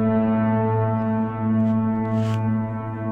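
A very long 20-second reverb tail from the FabFilter Pro-R plugin rings on as a dense, loud, sustained drone that sounds like a horn blast and holds steady without fading within the span.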